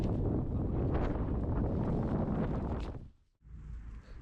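Steady, roaring wind buffeting the microphone for about three seconds at a tent campsite in the autumn Carpathian Mountains on Borzhava, dipping briefly before gusting back up.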